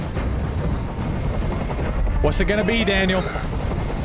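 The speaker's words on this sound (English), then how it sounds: "Tell that helicopter to get out of here." Helicopter noise in the video game Detroit: Become Human, a steady broadband rotor drone running throughout at constant loudness beneath a man's spoken line.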